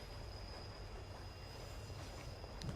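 A train rolls along steadily in a video game, a quiet continuous rumble with faint wheel squeal and a thin high whine, no voices over it.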